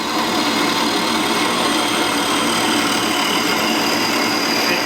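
A power tool cuts through an aluminum part of an inexpensive turbo motorbike, a continuous harsh, grinding buzz held loud and close from start to end.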